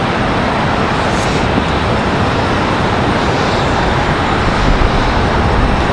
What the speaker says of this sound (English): That one's making its way down to the end of the runway now.